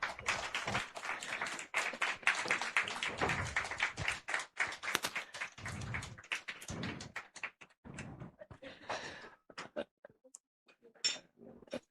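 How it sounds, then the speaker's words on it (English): A conference audience at an International Women's Day event breaks into a round of applause, dense and steady at first, then thinning into scattered claps and fading out with a few last isolated claps. "That applause is sufficient."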